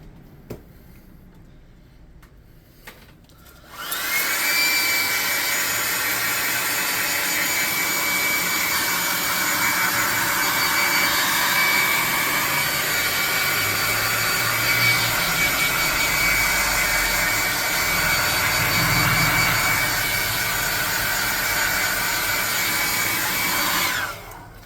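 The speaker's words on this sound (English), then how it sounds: "Hit this with the air gun first." An air gun blows over a painted terrain model of a sewer, a steady loud hiss that starts abruptly after a quiet pause and runs evenly for about twenty seconds before cutting off.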